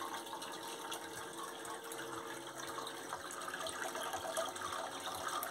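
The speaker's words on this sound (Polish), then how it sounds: "O, tu jak widzicie, woda leci." Water flowing strongly from a pipe, a steady broadband gushing rush at low level that continues evenly throughout without voices.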